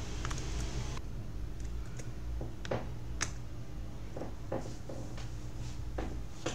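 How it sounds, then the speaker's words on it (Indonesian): Keystrokes on a computer keyboard while a Python file is being saved with Ctrl+S: sparse, distinct clicks spread across the span, close and fairly quiet over a steady low hum. "kita save dulu aja, Ctrl S ya"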